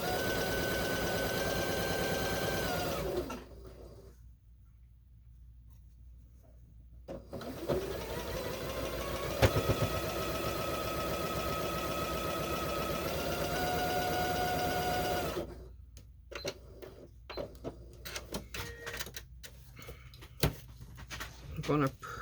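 A sewing machine stitches down the seam of a square-in-a-square half triangle quilt block, running in steady sustained bursts with a pause between them, followed by quieter handling noises at the end.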